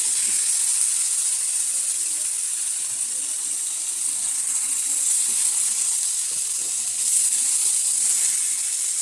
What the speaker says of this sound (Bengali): এবার দিয়ে দিচ্ছি আলু আর পটল